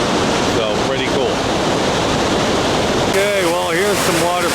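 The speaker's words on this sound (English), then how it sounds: "So there's the waterfalls going right over the water," Waterfall at Grand Portage rushing steadily over rocks into a canyon, a loud continuous broadband roar throughout, with someone speaking over it.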